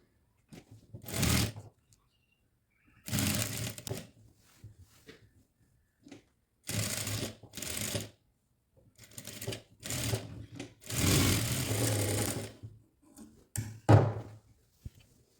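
A sewing machine stitching a kurti neck, running in several loud close bursts of rapid stitching with short pauses and handling noises between them, no talking.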